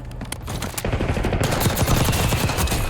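Dense, loud automatic gunfire in the Warzone video game, rapid overlapping shots forming a continuous rattling barrage from near and far.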